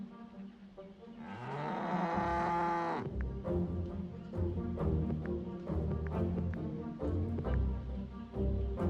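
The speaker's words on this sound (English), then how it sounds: "Morning wakes up the cows." Cows moo in the video game Orwell's Animal Farm, a long loud low moo at first followed by further lowing and farmyard noise, close and fairly clear with no talk.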